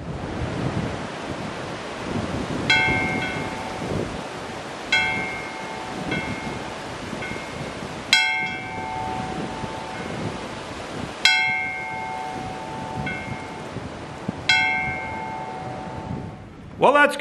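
Giant wind chimes made from oxygen tanks ring out outdoors in deep, bell-like clangs, struck irregularly every few seconds, each tone lingering and fading slowly over steady wind noise.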